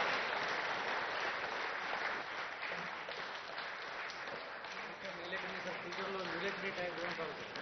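An audience at a government event with the Andhra Pradesh chief minister breaks into sustained applause, a dense even wash of clapping that fills the room and holds steady throughout.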